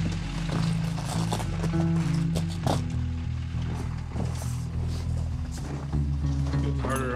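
Several rodeo horses walk toward the arena on a ten-minute walk in Montana, hooves clip-clopping in an uneven steady rhythm over a dense background of crowd, music and ambient noise, with an occasional whinny.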